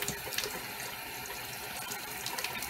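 Pork neckbones rinsed under a running kitchen tap: a steady splashing stream of water with small irregular spatters and knocks as the meat is handled, close by and without talking.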